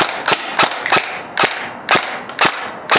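A Helios Umbrella Corporation M4 SBR airsoft gun fires BBs in a string of sharp, close shots, about ten snappy cracks at an uneven pace. A light mechanical hum runs between the shots.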